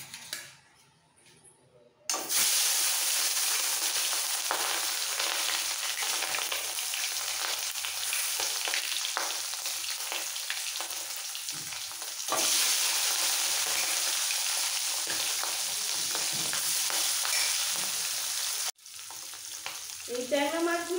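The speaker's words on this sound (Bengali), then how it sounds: "তেল ভালোভাবে গরম হয়ে গেছে, এবার নুন হলুদ দিয়ে মাখানো মাছগুলো" Tangra fish coated in salt and turmeric drop into hot mustard oil and burst into a loud, steady sizzle after a quiet start. The crackling frying continues close up, dips briefly, then fades near the end.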